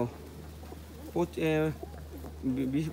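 Kaldom pigeons in a cage give soft cooing calls in short bursts, close by and fairly quiet against a low background hum.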